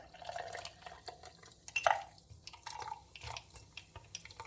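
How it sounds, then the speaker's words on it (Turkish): Lemon-flavored coffee being strained, with soft liquid drips and trickles over about four seconds, plus a brief sharper splash near the middle, close and fairly quiet with no talking. "Burada yapmış olduğumuz aromasını süzüyoruz."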